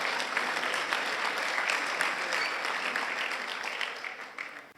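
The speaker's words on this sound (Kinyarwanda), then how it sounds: "Abakomye amashyi buriya barabyumvisha." Audience applause at a church gathering, dense sustained clapping throughout, loud and fairly near, tapering off toward the end.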